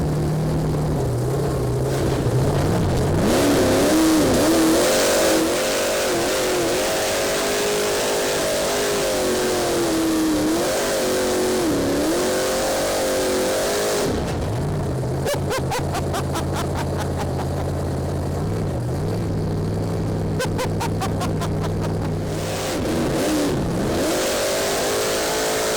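The electric motor of an RC monster truck whines loudly and steadily, rising and falling in pitch as the throttle is worked, with brief dips and gritty crackles as it drives.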